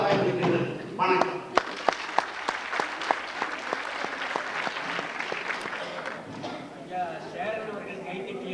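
A room of people at a 1993 Tamil poetry session applauds, with scattered sharp individual claps standing out in an even rhythm, under speech and crowd murmur.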